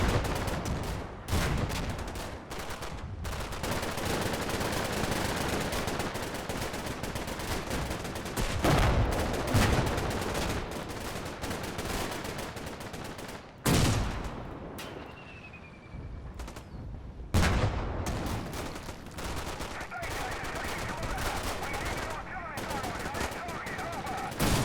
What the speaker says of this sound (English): Time to start that covering fire.